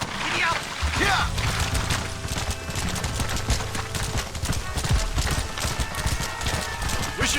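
Horse hooves gallop in a rapid steady clip-clop through the Red Dead Redemption video game, loud and continuous under a shouted voice and background game sounds.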